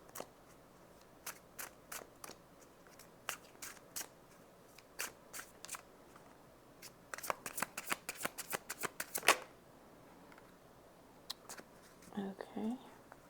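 Tarot cards shuffled and pulled from the deck, with soft crisp card snaps spread sparsely, then a quick riffle-like burst in the middle; a quiet voice speaks near the end.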